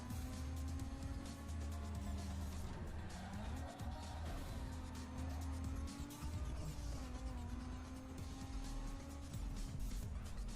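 A race car in a racing video game roars continuously under heavy acceleration, the engine note rising and wavering with bursts of tire squeal and skidding throughout.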